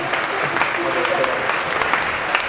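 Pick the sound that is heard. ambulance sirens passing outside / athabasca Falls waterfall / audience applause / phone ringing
audience applause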